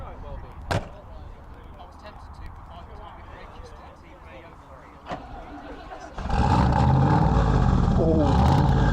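Turbocharged 3.5 litre Rover V8 at an outdoor UK car meet, a sudden loud engine roar bursting in after quieter crowd chatter and talk, then holding a strong revving drone nearby.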